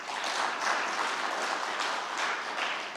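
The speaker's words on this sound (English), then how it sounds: "I thought you'd clap for that." Sustained audience clapping at a formal speech, dense and even throughout, fairly loud with no talk over it.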